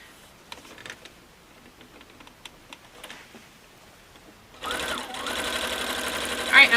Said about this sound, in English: I'm going to keep going, stitching on either side, all the way along.